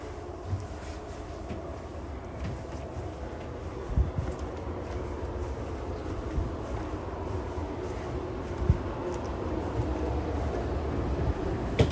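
Continuous low rumble and rattle of a moving California Zephyr passenger carriage crossing Utah at night, steady wheel and track noise with occasional soft knocks, no voices.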